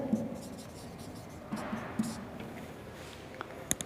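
Marker or chalk scratches on a board during a school science lesson: a few short strokes, with a longer burst of writing in the middle, close and moderately loud in a room with faint background noise.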